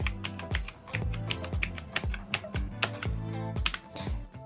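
Number keys pressed one after another on a Tewell mechanical gaming keyboard, crisp close clacks in a fairly even rhythm of roughly two to three strokes per second, with no talking.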